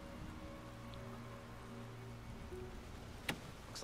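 Rain in the Resident Evil 2 video game makes a steady soft hiss with scattered droplet ticks under a low ambient drone, faint and continuous, with a brief sharp tap near the end.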